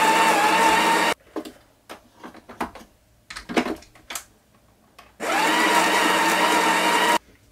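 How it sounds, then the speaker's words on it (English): A coffee machine's built-in grinder grinds beans in two loud, steady whirring bursts, each about two seconds, with quieter clicks and clatter between them. "In our coffee machine we have grinder,"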